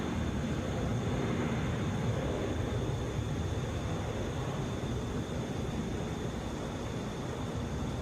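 A Boeing 757 airliner at Atlanta airport gives a steady, broad jet roar that holds at an even loudness for the full stretch, with no voices over it.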